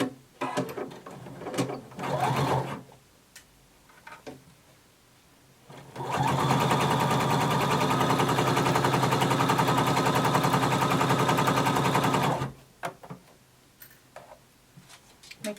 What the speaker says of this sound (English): we're going to sew down our side seam starting at the bottom and sewing our way up